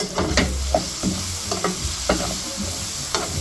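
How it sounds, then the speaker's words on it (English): Onion and scallion frying in a pot sizzle steadily while a utensil stirs them, scraping and clacking against the pot in irregular strokes, close and clear with no voices. "we'll be stirring occasionally to ensure that all of the onion gets cooked as well as the bottom part of the scallion"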